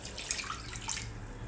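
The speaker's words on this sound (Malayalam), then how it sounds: "1/4 കപ്പ് പരിപ്പിന് 1 കപ്പ് വെള്ളം ഒഴിച്ചിട്ട് ഇതൊന്ന് വേവിച്ചെടുക്കുക." Water poured into a pressure cooker holding soaked toor dal for sambar, a soft steady splashing stream heard close up with no talk.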